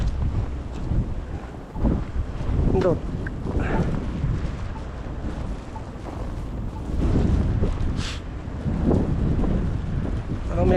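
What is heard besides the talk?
strong wind with snow blowing into microphone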